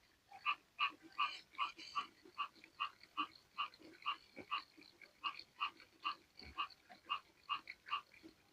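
Frogs croak from a fish pond stocked with gourami larvae: a steady, repeating series of short, evenly spaced calls, about two per second, fairly close and with no talk over them.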